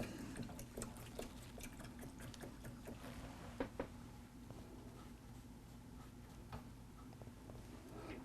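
A paintbrush sloshed and rinsed in water, with small clicking taps of the brush against the container over a steady low hum, moderately quiet and close.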